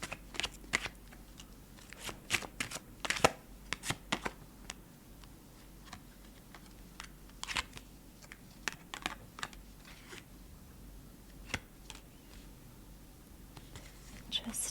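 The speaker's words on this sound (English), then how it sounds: "I'm also going to get a couple of cards from Marcel's Oracle" Oracle cards being shuffled and drawn in a quiet, close ASMR tarot setting, soft irregular taps and flicks scattered through a low background hum, with no speech.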